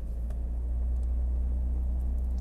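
A 39-year-old BMW E30 engine runs at high idle around 1000 RPM in drive, a steady low rumble close up with no voices.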